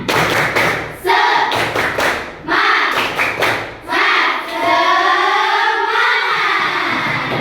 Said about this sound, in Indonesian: Lebih semangat, kita lakukan yel-yel dulu ya. Ya, Bu. Tepuk semangat.